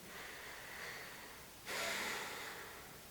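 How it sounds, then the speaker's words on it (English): A slow, deep breath taken during a gentle yoga flow for low-back release: a soft, airy inhale that swells suddenly into a louder, breathy rush partway through, then eases off, close and with no talking. "One more deep breath here."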